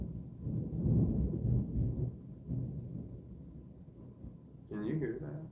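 Low, deep rumbling thunder rolls on and off through the stretch with no clear crack, sitting at moderate loudness, and a voice breaks in near the end.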